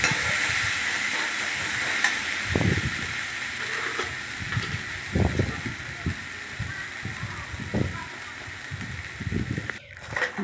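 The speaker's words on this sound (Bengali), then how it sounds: "দিয়ে ভালো করে মশলাটাকে কষতে থাকলাম।" Spice masala with cumin powder sautéing in a pan for mutton kalia, a steady close hiss of frying with repeated scraping stir strokes over it.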